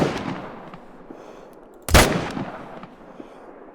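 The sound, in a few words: M1 rifle gunshot from the video game Call of the Wild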